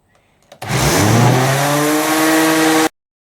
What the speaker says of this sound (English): now for some aggressive sanding